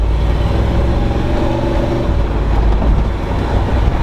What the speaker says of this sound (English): We are shifting gears.